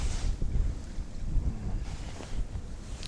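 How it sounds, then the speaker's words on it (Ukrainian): Wind gusts across an open riverside winter fishing spot, a steady low rushing roar with buffeting swells, no voices. "Вітерець піднімається."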